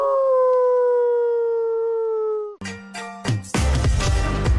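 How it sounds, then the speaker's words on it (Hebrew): A dog gives a long, steady, tonal howl close by that slowly falls in pitch and breaks off, followed by clattering noises and a burst of louder sound. "הבאתי לנו כלב."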